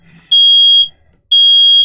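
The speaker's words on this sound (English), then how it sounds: "It really isn't an emergency smoke alarm." An indoor smoke alarm in a living room goes off with two loud, piercing electronic beeps, each about half a second long and separated by a short gap.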